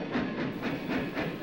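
A mining train runs along rails with a soft, rhythmic clickety-clack, its repeated pulses steady and fairly quiet, with no voices.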